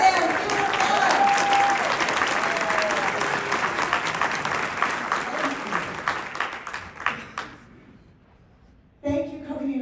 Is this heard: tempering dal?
no